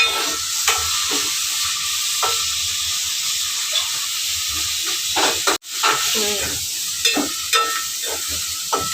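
Onions fry in a pan for bagara rice, a steady hiss and sizzle broken by scattered scrapes and stirring clicks throughout, with one sharp knock midway.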